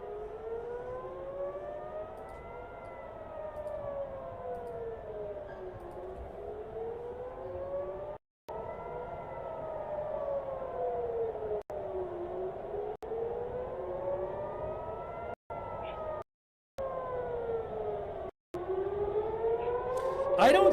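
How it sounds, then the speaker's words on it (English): Civil defense air raid sirens wail over Tel Aviv, long rising and falling tones sweeping slowly and steadily, loud and sustained with several brief dropouts where the sound cuts out. "you can hear the sirens in Tel Aviv."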